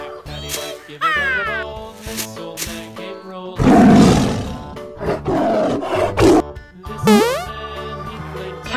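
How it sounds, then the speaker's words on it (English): Tiger roaring from a children's zoo animal toy: a long, loud, rough roar in the middle, with short tonal chirps and calls from the toy before and after it. "Yellow tiger."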